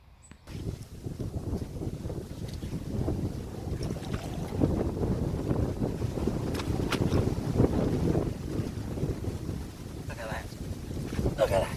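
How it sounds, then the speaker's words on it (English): Steady wind buffets the microphone outdoors at a carp fishing spot, a continuous low rumbling gust noise with faint voices mixed in beneath it. "Windy conditions."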